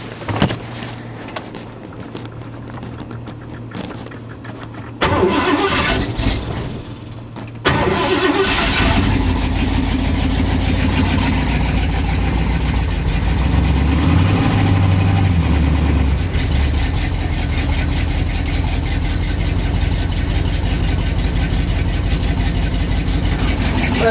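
A 1979 Ford F150 truck is cold-started on a winter night: the starter cranks for several seconds, the engine catches, and the truck settles into a loud, steady, slightly rough idle close to the microphone.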